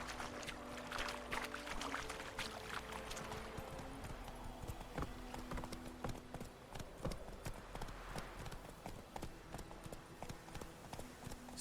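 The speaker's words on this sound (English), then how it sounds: "Run, Roach" A horse's hooves pound steadily in a fast gallop in The Witcher 3: Wild Hunt on PS4, a continuous rhythmic clatter over a soft outdoor ambience.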